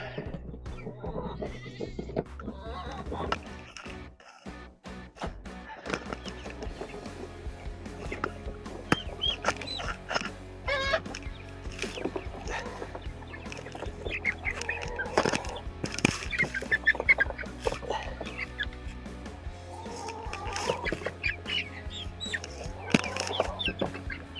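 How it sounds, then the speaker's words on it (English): Fully feathered chicks in a coop keep up a continuous chorus of peeping and clucking, with the busy bird calls overlapping throughout. "all right, so we got the chicks in here"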